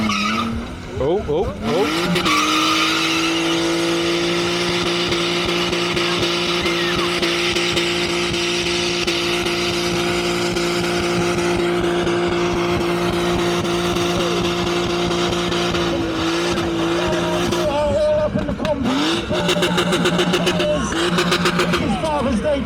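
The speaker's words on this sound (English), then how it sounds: "burning up the rear tyres in your daughter's car" A car burns out its rear tyres at a UK car event, with a loud sustained engine roar and tyre squeal running for many seconds, then clatter and crowd voices, with a brief exclamation.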